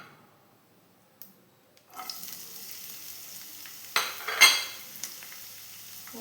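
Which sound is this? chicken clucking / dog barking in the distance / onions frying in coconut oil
onions frying in coconut oil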